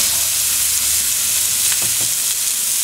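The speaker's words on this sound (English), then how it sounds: "we're going to lay out a little bit of clarified butter, and we're going to set these patties on here and let them cook" Burger patties sizzling in clarified butter on a hot griddle, a loud, steady frying hiss throughout with a few faint pops and clicks, no voices.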